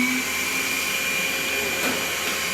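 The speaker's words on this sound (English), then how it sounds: "Dude got a little vacuum cleaner," A small vacuum cleaner hums steadily in a race car shop, a constant whine holding at even loudness throughout with no voices over it.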